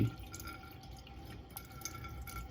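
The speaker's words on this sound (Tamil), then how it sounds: "இதை நீக்கி எடுத்துட்டு கணவாய இப்படி கொஞ்சம் கழுவி" Water dripping and trickling as fresh squid is rinsed by hand while being cleaned for a squid curry, a quiet, steady wet patter close by with no voices.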